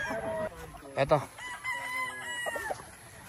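A rooster at a Bicol farm in the Philippines crows loudly nearby, a long drawn-out call with a sharp rise and trailing end, with some faint background voices.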